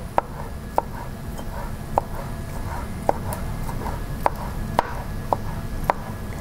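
Knife cutting a rolled egg omelette into thin slices on a board: crisp, evenly spaced chops, about eight of them, close and clear over a soft background hiss.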